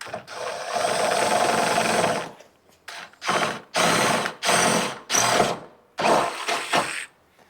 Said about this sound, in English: we're gonna drill this hole out real quick